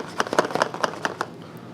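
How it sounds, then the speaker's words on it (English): A small die rattles inside a Magic: The Gathering Eldritch Moon fat pack box as it is shaken, giving a quick series of about seven light, close clicks and knocks. "It gets a dice in it. You hear it?"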